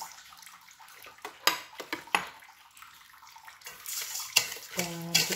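Sugar is stirred into a chocolate pudding mixture, with a spoon scraping and clinking against the pot in irregular bursts, some light sloshing, and quiet gaps in between.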